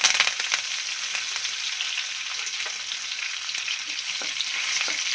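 Fresh curry leaves fry in hot oil for a sweet mango pachadi, giving a steady, bright crackling sizzle that stays fairly even and close throughout, with no voices.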